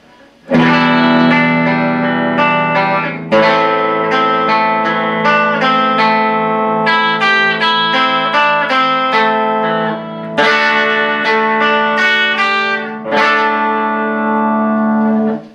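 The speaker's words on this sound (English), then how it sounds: "you'll hear the guitar come in with a lot more distortion" An electric guitar with heavy distortion plays sustained chords and ringing notes, loud and close, with short breaks between phrases.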